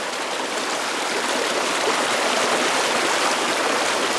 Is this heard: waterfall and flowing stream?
yes